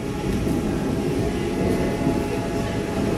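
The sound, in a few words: train riding on rails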